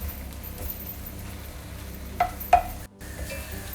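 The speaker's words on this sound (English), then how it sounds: "I'm going in with some Parmesan there as well as a tablespoon of breadcrumbs. Give that a nice little mix in." A utensil mixes grated Parmesan and breadcrumbs in a bowl, a soft close scraping with two brief louder taps near the end, then a short pause before the quiet rubbing resumes; nobody speaks.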